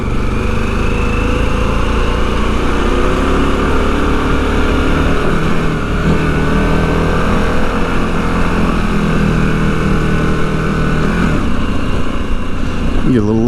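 A Harley-Davidson Pan America motorcycle engine drones loud and steady while riding, its revs rising and falling slightly beneath wind noise, with a rider talking faintly over it.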